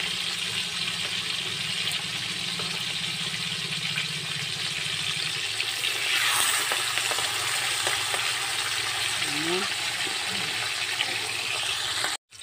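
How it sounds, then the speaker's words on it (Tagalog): Fish fries in a pan at home with a steady, close sizzle and crackle that runs unbroken throughout, with a few faint clinks and no talking. "Done cooking na tayo sa ating piniritong isda."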